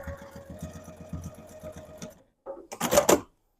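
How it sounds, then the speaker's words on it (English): A sewing machine top stitching near the edge of fabric, with a back stitch to close an opening: a steady rapid needle chatter for about two seconds, a pause, then short bursts of faster stitching. "I'm just going to do as close to the edge as I can get a top stitch with a back stitch to close that opening"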